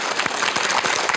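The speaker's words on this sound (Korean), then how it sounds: "맞다라고 생각하시는 박수 한번" A studio audience at a Korean television talk show breaks into steady, dense applause, a continuous wash of many hands clapping throughout.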